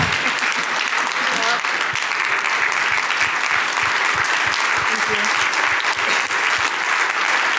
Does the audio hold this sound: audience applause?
yes